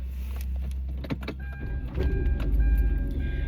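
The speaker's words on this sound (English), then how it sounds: "I got to turn the car on, turn on the air, because it's starting to get hot outside" A car is switched on from inside the cabin: a low engine rumble swells after a couple of seconds over faint clicks and thin electronic chime tones, with the idle continuing steadily to the end.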